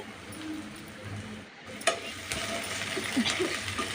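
Green chili pieces, mustard seeds, cumin, cinnamon and cloves fry in hot oil for a carrot and meal maker curry, making a soft continuous sizzle with a few light stirring clinks, close and moderately quiet, with no voices.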